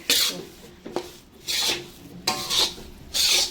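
Jaggery cooks in a pot for lapsi while a spoon stirs it, giving repeated rough scraping strokes at an uneven rhythm, close and fairly loud.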